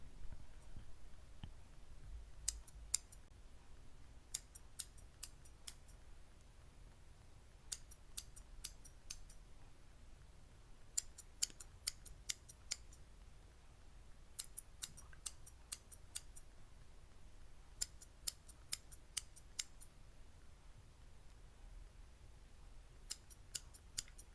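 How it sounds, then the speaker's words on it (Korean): Scissors snip through a bandage in clusters of sharp, crisp clicks. The cuts come close and intimate over a very quiet background, in bursts separated by pauses. "누나가 이 가위로 붕대 잘라서 다시 고쳐줄게."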